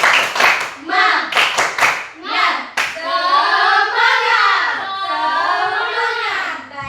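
Group of students doing the 'tepuk semangat' rhythmic clap game during a classroom ice-breaker, several sharp claps in a patterned burst, followed by children's voices chanting loudly.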